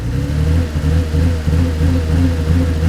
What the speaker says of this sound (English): It's running fine without the mass sensor